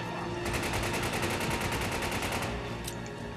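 Flash grenade blast in Resident Evil 5, heard as a dense, loud burst of gunfire-like crackle and noise that holds steady for about two and a half seconds, then thins out with a few sharp pops.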